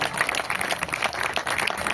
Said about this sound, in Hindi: सभी के लिए एक बार जबरदस्त तालियां